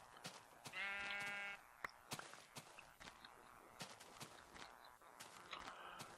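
Sheep bleating in the Minecraft video game, one clear wavering bleat near and loud, set among light footstep clicks and small game sounds.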